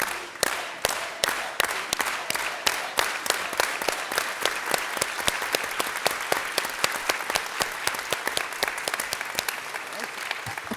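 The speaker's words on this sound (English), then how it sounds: "let's all do it with an organized hand clap" A crowd at a public event claps together in a steady, organized rhythm, sharp unison hand claps repeating evenly throughout, loud and close.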